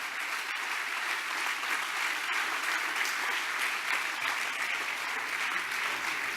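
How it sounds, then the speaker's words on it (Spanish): Congregation applauding together at a church service, a steady, dense wash of clapping that holds at an even level throughout with no voices standing out. "Puedes aplaudirle al Señor."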